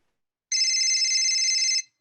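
An old Nokia phone rings with a steady electronic tone lasting just over a second, loud and alone against silence, then cuts off abruptly.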